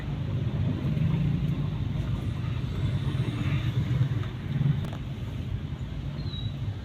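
A steady low rumble of idling and creeping cars in traffic, continuous engine drone without pauses, heard from inside a vehicle.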